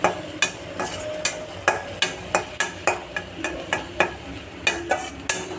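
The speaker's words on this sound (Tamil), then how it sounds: "இதை கொஞ்சம் நல்லா வதக்கிக்கலாம்" Blended masala being sautéed with cluster beans in a pan, a spatula scraping and tapping in a quick regular rhythm of sharp strokes over a soft sizzle, close and clear.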